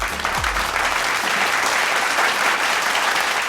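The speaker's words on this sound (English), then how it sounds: "give them a warm round of applause." Warm applause from a seminar audience honouring past district governors, steady dense clapping throughout at close range.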